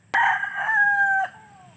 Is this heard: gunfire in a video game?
no